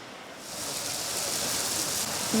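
Steady rain falls during a storm in Segovia, a constant hiss of drops that swells slightly louder over the couple of seconds, with no voices.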